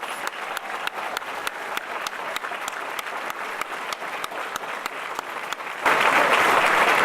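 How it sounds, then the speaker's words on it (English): Audience at an alumni awards ceremony claps for the 2017 award recipients, a steady round of applause that swells louder near the end. "Please join me for one final round of applause for all of our 2017 Alumni Award recipients."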